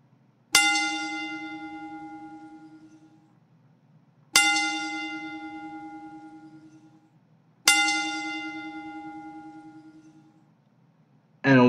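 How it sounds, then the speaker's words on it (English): Three slow, evenly spaced strikes of a ringing bell as a tribute. Each rings out loud and clear, then decays over several seconds in a quiet room. "so I can do this 3-bell ring real quick out of respect"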